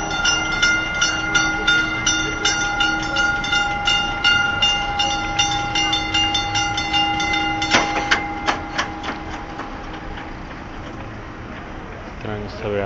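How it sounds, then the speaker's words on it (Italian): A train rolls by at a level crossing on Via Napolitano in Nola, Italy, with a rhythmic clatter of wheels over joints, while a steady electronic warning tone rings throughout; a voice speaks faintly. "Eccolo là il treno."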